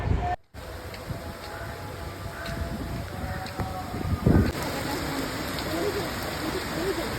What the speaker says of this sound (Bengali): জঙ্গলে এখন বৃষ্টি দেখা ছাড়া আর কিছু করার নেই